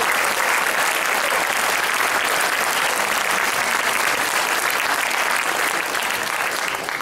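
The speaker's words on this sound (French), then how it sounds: "Il faut les applaudir quand même" Sustained applause from an audience, dense and even throughout with no individual claps standing out, and no voices above it.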